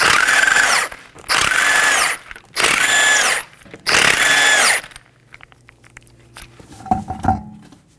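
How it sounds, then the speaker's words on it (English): Power impact tool with a 21mm socket spinning off the lug nuts of a 2015-2023 Nissan Maxima 3.5L V6 front wheel: four loud, close, whining bursts about a second each, then quieter clicks and handling noises. "We'll be using a 21mm socket to remove the 5 lug nuts."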